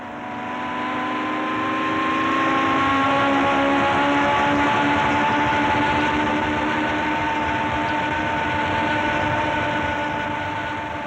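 Formula 1 racing cars at speed, with a Ferrari out in front, making a continuous high-pitched engine scream that swells and holds steady for several seconds, loud and sustained without speech.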